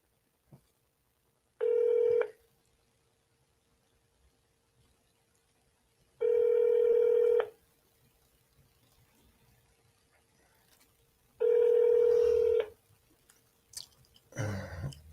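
Telephone tones on a call placed to the Canadian Space Agency: three evenly spaced, loud tone bursts of about a second each, with near silence between them, then faint handling noise at the end.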